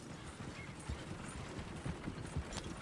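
Horse hooves clip-clop in a video game with a quick, uneven rhythm of soft thuds. They sit faint over a low background hum, and there are no clear voices.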